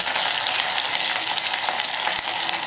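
Bottle gourd curry sizzles steadily in a pan while it is stirred, a constant close hiss of frying with faint scraping clicks, and no voices.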